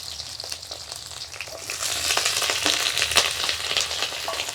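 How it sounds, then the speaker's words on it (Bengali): Steady, dense sizzling of eggplant frying in hot oil in a wok, growing louder partway through, close by with faint crackles and no talking. "কড়াইতে দেবো বেগুন ভাজা"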